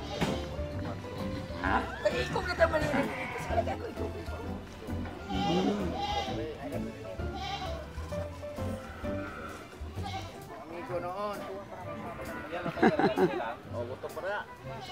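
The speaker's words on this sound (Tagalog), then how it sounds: "Kanino mga kambing ang karga mo?" Goats bleat repeatedly, close and fairly loud, at a Philippine livestock market where cattle are traded, with people talking over and between the calls throughout.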